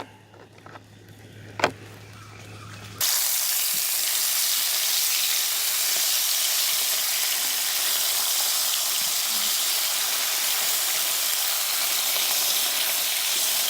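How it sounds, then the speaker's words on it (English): Three slices of bacon fry in a pan at a campsite, a loud, dense, steady sizzle that starts abruptly after a few quiet seconds with one faint tick and then holds close and unbroken. "I get this bacon fried up"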